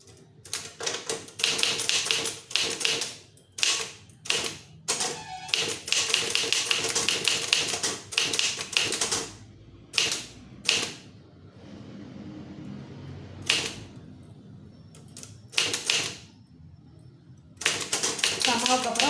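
A typewriter taps out a Tamil secretariat official letter in rapid bursts of keystrokes broken by short pauses, with an instructor's voice talking between the runs.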